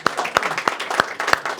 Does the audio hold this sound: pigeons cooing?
no